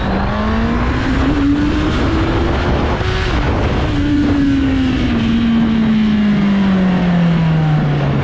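Honda CBR 650 R motorcycle revving and accelerating from a standing start with traction control off, a loud close engine note climbing and easing back through several gear changes over a steady roar.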